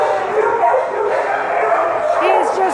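Six-month-old dogs at an animal shelter bark and yip in quick bursts, with a whimpering, rising whine near the end, heard close and loud over steady kennel background noise.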